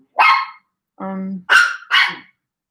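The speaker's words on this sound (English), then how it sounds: "Hopefully you enjoy the sound of Chihuahua barking." A Chihuahua barks sharply three times close by, with a brief whiny, harmonic vocal sound between the first and second barks.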